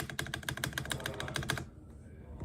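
Quick, even clatter of a mechanical keyboard fitted with lubed ice cream switches, a fast run of close keystrokes that stops abruptly partway through, with only faint sound after.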